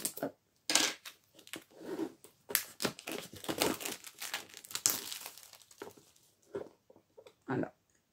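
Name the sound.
opening the packaging of a compartment storage box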